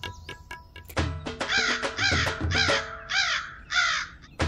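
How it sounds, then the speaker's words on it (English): A crow caws repeatedly, loud and close, in a series of harsh calls after a few sharp clicks at the start, with no talk. "I will caw and wake you up."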